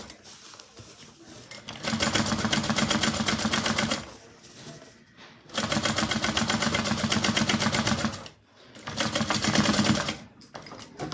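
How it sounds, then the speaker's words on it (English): Sewing machine top-stitching through the lining of a waterproof canvas bag, running in three long steady bursts of rapid mechanical stitching with short pauses between, close and loud with no talking. "I'm going to turn it over and top stitch through the lining"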